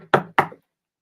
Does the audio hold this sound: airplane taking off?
no